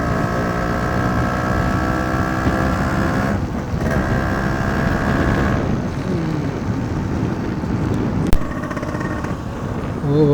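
A mint-condition Yamaha RX100 two-stroke motorcycle idles with a steady, buzzing exhaust burble close by, its pitch shifting slightly mid-way, with one sharp click near the end and no talking.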